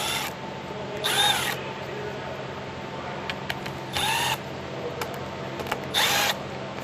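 A cordless power tool drives fasteners while a Vista roof panel is replaced on a 2017-2022 Ford Super Duty, sounding in three short whirring bursts separated by quieter pauses with faint clicks, close by.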